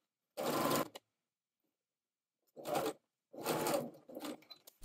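A sewing machine stitches the outer-edge seam of a tie in three separate bursts: a short run, a pause, a brief second run, then a longer run that stutters near the end. The machine sounds close and clear against silence.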